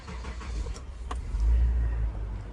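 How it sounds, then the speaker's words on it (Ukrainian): A 2001 Mitsubishi Pajero Wagon engine starts and settles into a deep, low rumbling idle, fairly close, with a few faint clicks over the running engine. "Автомобіль заводиться без нарікань."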